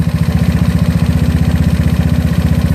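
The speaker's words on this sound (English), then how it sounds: "I hear the engine being aggressive again" A GY6 scooter engine fitted with a PWK 30mm carburetor idles rich, a loud, steady chugging with fast, even firing pulses that hold a constant rhythm throughout.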